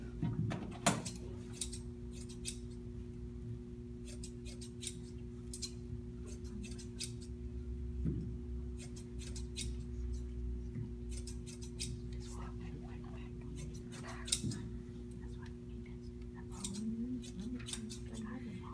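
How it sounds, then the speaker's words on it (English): Repeated crisp snips of scissors cutting, scattered irregularly over a steady low hum, close by with no talking. "Now, I pull these scissors out"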